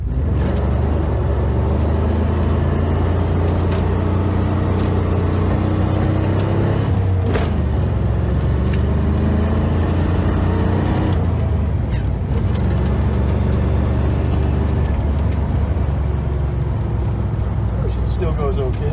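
Manual-transmission car in need of a tune-up, heard from inside as its engine drones and whirs steadily at close range while people talk over it.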